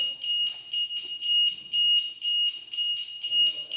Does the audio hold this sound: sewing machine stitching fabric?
no